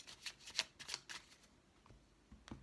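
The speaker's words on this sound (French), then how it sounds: "on va tirer une petite carte pour les célibataires et une carte pour les couples" Tarot cards are shuffled and drawn by hand, giving quiet crisp riffles and flicks in a quick irregular burst, then a few softer card snaps, close and faint.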